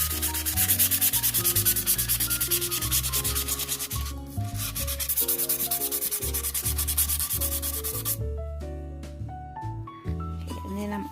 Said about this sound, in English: I'm taking a 220 grit sandpaper, and I am just kind of going to scuff this up a little bit